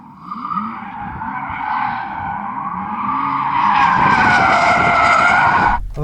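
Porsche Taycan Sport Turismo GTS, a four-wheel-drive electric car, spinning its wheels in a sustained, loud tire skid that builds in intensity for about six seconds before cutting off abruptly, with no engine roar beneath the squeal.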